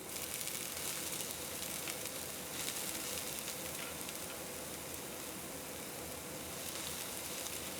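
Onions and garlic sizzle steadily in a pan, a dense, even crackle that holds at a constant level throughout with no voices.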